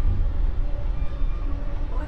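A passenger train rolls along in Toronto, heard from on board as a steady, loud, low rumble and rattle. The noise keeps going without a break, and voices talk faintly over it.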